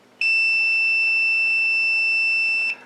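A single sustained electronic beep from a multimeter continuity test, high-pitched and steady, sounds clearly for about two and a half seconds before cutting off.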